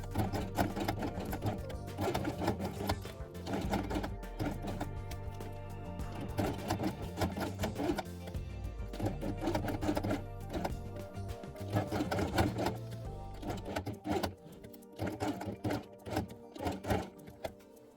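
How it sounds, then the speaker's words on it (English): A sewing machine stitches Velcro onto a fabric quiet book page, its needle running in a fast, continuous mechanical chatter that is close and steady, with brief slowdowns and pauses near the end. "sew it along the edge"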